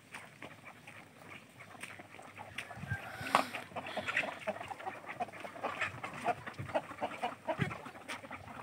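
Native country chickens cluster in their egg-laying coop rooms, giving a busy, continuous mix of clucks and calls at moderate distance, with a louder burst partway through and no speech.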